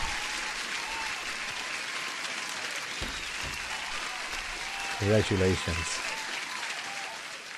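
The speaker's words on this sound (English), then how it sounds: "Let me give an applause to all of you guys" Steady applause plays throughout a live futures day-trading stream, dense and even for the whole stretch, with a short spoken word cutting in over it near the end.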